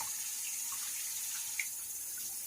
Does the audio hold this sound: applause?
no